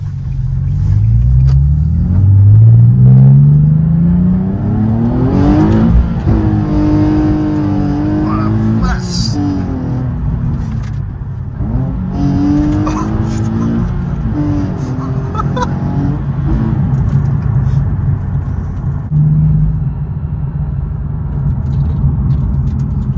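A Nissan 370Z with a full straight-pipe exhaust and the gearbox in sport mode accelerates hard from inside the car, with loud rising engine tones through repeated gear changes while people talk over it.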